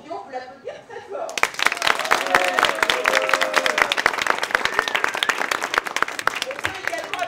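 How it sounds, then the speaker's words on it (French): An audience claps at a French event after an actor is introduced, with dense applause rising suddenly after a brief spoken introduction and continuing loud and sustained with a few cheers mixed in. "Vous l'applaudir très fort."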